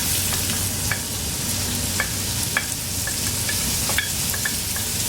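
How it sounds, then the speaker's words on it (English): Thinly sliced onions frying in hot oil and butter over a high flame, a steady close sizzle with a few light stirring clicks and scrapes. "I have 2 large onions here that I've thinly sliced. So I'm going to add this to the hot oil and butter."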